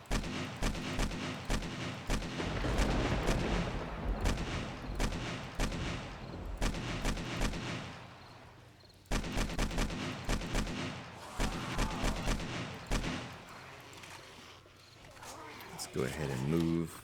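AK rifle gunfire in the video game 7 Days to Die, with rapid bursts of loud sharp shots repeating over several seconds amid game noise, and a person talking over it.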